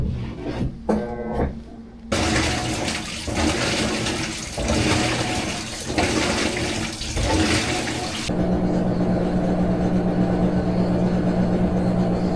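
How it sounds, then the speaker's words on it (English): A washing machine runs a wash cycle with shop towels, giving a loud, continuous churning and rushing of water with a motor whir, which switches abruptly to a steadier hum partway through. "start a real wash cycle with some shop towels to really put it through the paces"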